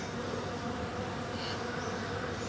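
Dense, steady buzzing of many bees, close and continuous, with no voices.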